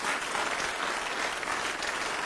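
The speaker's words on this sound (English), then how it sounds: "what about a round of applause for all the finalists?" A dense burst of applause from an awards-night audience honoring ethical investment award finalists, continuous and even throughout with no clear talk over it.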